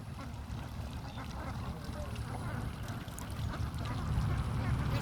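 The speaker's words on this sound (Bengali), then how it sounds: "1000+ হাঁস আছে।" A farm flock of over a thousand ducks quacks in a dense, continuous chorus at moderate distance, growing slightly louder toward the end, with a murmur of voices in the background.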